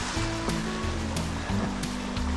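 Steady rushing of the Gonbächli mountain stream on the Flims trail in Switzerland, water flowing continuously and loudly close by with no voices.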